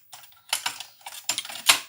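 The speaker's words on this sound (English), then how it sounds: "I put it in, I press play and I press return" A cassette tape is handled and loaded into an Atari tape recorder, followed by buttons pressed on the deck and the computer keyboard, giving several close, sharp clicks and clacks in quick succession.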